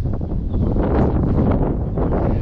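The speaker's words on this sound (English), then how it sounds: "Boy, it's windy." Strong wind gusts buffet the microphone at the WP Franklin Lock and Dam, a loud, low, rumbling roar that surges and eases continuously with no voices.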